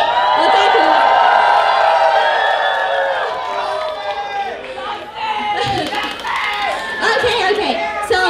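An audience at the 44th SSEAYP Japan National Presentation cheers loudly with whoops, shrieks and excited shouts, blending into lively crowd chatter that swells again near the end.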